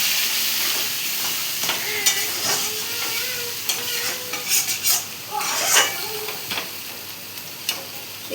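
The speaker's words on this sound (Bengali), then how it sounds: "মশলাটা একটু ভেজে নিলাম, মশলাটা একটু নাড়িয়ে দিলাম।" Spices for mutton curry fry and sizzle in a pan while a spoon stirs and scrapes against the metal, with soft clinks and scrapes over a steady low sizzle.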